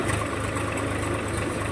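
A Swaraj 744 FE tractor engine runs at a steady, loud, close drone with a deep rumbling throb throughout, and no voices are heard.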